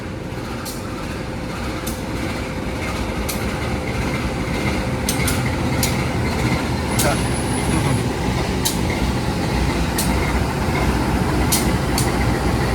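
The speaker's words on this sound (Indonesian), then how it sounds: "rangkaian kereta api Logawa baru aja memasuki stasiun Rambi Puji nih" The Logawa passenger train rumbles into Rambipuji station, Indonesia, steadily with clacking wheels and a long squeal of brakes, while a person talks faintly over the noise.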